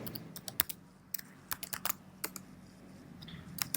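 Someone types a password on a computer keyboard, producing irregular crisp key clicks in quick bursts over about four seconds, close and fairly quiet, with no talking.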